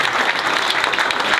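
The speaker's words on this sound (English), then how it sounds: "So let's give them all a round of applause." Audience applause at a political party meeting, a dense, even wash of many hands clapping together, loud and sustained for the whole moment with no speech.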